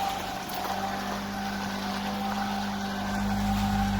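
A Generac 1200 watt portable inverter generator runs at a steady drone with a constant low hum, heard continuously at moderate level with no voices.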